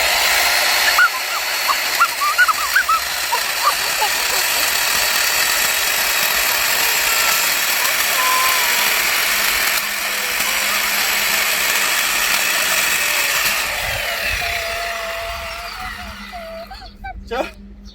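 An electric chainsaw cuts firewood at a campsite with a sustained whining motor buzz that rises and falls over about eighteen seconds, while people talk throughout and the tool tapers off near the end.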